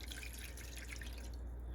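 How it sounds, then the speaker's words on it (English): Water poured from a cup into a tea pan being heated, a brief steady splashing trickle close by, with no talk. "I'm gonna grab the water cup and put it into the tea pan that is being heated up right now."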